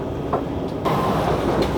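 Train pulling into Bellinzona station in Switzerland after crossing the Alps, heard as a steady broadband rumble with a brief surge partway through, loud and close with no speech.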